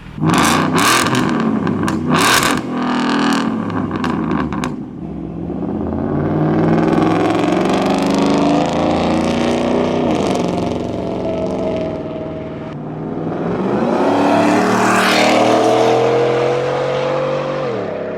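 A 750-horsepower Shelby F-150 pickup truck drives on the road, its engine roaring loud and near, with throttle blips at first and then long sustained revving pulls that rise and fall, and no talking.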